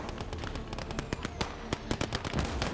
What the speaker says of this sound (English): The mortars are still going strong as well.